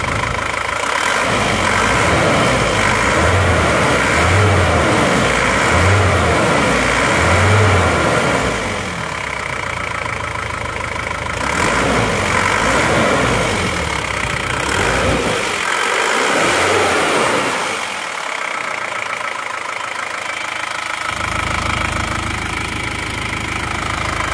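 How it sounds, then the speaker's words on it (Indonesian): A just-started Isuzu Panther Touring car engine idles, a steady mid-pitched running hum with rhythmic knocking pulses early on, loud and close, no talking. "Suara mesinnya."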